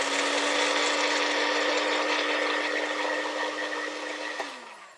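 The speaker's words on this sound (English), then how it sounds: "I know my blender will do all the work for me" A kitchen blender runs at full speed blending garlic for a creamy broccoli salad, a steady loud whirring motor hum that holds even and then winds down near the end, with no voices.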